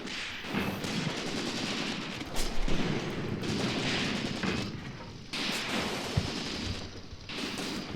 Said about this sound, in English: So they're definitely bombing us now with mortars.